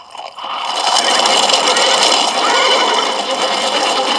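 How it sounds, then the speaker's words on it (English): Pack horses whinny loudly and steadily for several seconds in an outdoor Western setting, one drawn-out neigh filling most of the stretch with no voices over it. "These are pack horses Josh had them, aren't they?"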